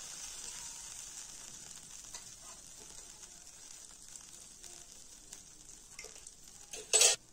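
Two spoons of oil heat in a kadhai with a faint, steady sizzle and soft crackles and a few light stirring scrapes, ending in a brief louder metallic clatter near the close.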